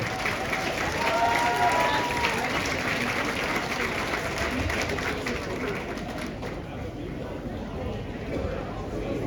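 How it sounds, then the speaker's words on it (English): Crowd applause and cheering for Terry Johnson at an outdoor Camp Hope Unity Convoy rally, a steady dense clapping that swells early and holds at moderate loudness before thinning slightly near the end. "Let's give a big round of applause to Terry"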